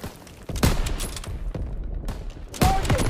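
Call of Duty WW2 combat brings several sharp rifle and gun shots, spaced at uneven intervals with sharp cracks roughly every second, over a steady backdrop of battle noise.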